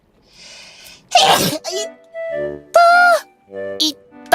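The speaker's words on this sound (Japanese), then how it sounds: "ぎっくり腰に今一番きついのって、くしゃみなんだよ。" A person with a strained lower back sneezes loudly, with several sharp bursts mixed with pained, strained vocal noises and gasps, close to the microphone.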